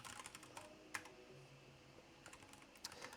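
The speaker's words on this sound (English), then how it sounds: "I will become proficient at typing again." Steady typing on a computer keyboard, quiet close-up key clicks in irregular bursts with a few louder taps.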